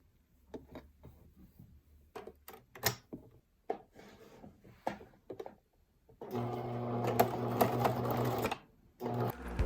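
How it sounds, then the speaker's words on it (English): A sewing machine zigzag stitches two lace pieces together for undies. Soft handling taps and rustles come first, then a loud, steady mechanical run of a few seconds that pauses briefly and starts again. "I'm just going to use a zigzag stitch to attach those two pieces together"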